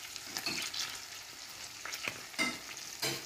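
Small shrimp fry in a pan with salt, a steady sizzle broken by several scraping stirs of a utensil against the pan, close and moderately loud, without speech.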